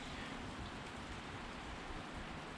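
Steady rain falls outside, a constant broadband hiss with no breaks or voices, fairly quiet and continuous throughout.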